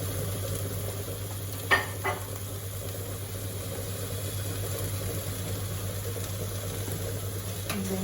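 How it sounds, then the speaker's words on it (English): Cream and frozen peas get stirred through a mushroom stroganoff in a pan over low heat, a soft continuous simmer with a couple of brief spoon scrapes against the pan. "And then just stir that through."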